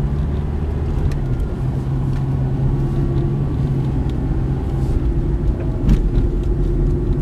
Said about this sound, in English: Jeff trying out a car.